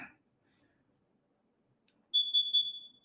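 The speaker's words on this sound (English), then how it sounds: "I knew they needed to replace this freaking smoke detector" A smoke detector lets out a single near, loud, sustained electronic beep lasting under a second after a long quiet stretch, with no one talking.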